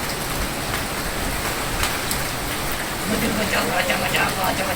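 Steady rain falls at night on a village in Bangladesh during the first rain of the year, a dense, continuous patter with scattered heavier drops that swells slightly toward the end.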